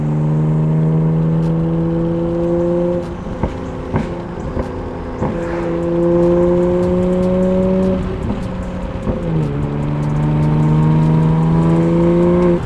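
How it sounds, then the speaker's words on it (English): A 2020 Toyota Supra engine idling and revving, loud and close, with a steady droning tone that rises in pitch several times between brief blips. "Oh, this car sounds so good right now."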